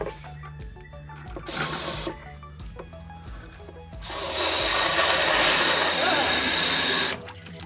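Water rushes through the radiator of a CAT 299D compact track loader during a coolant flush, a hissing gush that starts briefly, stops, then surges again strongly for several seconds, with people talking over it.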